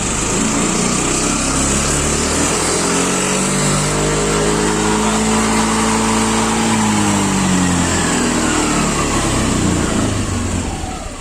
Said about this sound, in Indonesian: ini pada saat RPM-nya masih rendah dan kita cobain sampai VVA-nya kebuka.